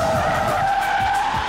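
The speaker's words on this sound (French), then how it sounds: "On va essayer de lui faire des donuts." A car spins donuts, its tyres squealing in one loud, sustained, wavering screech over a revving engine with no talking.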